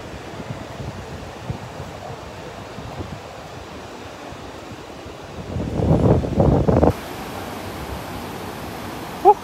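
Wind sweeps across Boracay beach in a steady breathy rush with muffled gusts buffeting the microphone, growing louder in a brief burst midway before settling back.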